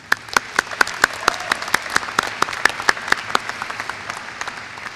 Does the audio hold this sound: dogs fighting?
no